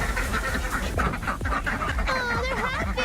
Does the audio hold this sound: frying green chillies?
no